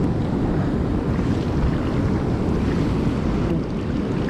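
Big ocean waves surge and crash on a beach in a steady, loud, continuous roar, with heavy wind buffeting the microphone throughout and no voices.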